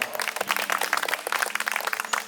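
A small audience claps for a guest named Amel, rapid scattered applause heard at a moderate distance with a faint steady hum underneath.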